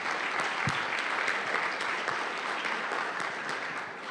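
An audience at a community fundraising event applauds in steady, dense clapping that holds evenly throughout, moderately distant.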